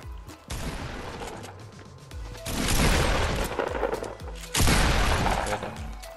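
Shotgun fire and chaotic battle noise in the Fortnite Battle Royale video game, dense bursts of loud blasts with booming surges near the middle and end, no talking.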